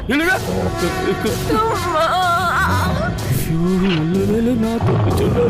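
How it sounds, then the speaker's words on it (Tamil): A bear roars and growls in a Tamil TV serial, with continuous loud, rough roaring across the whole stretch. Background music plays under it and there is a snicker-like sound. "கரடி இருக்கு மேல."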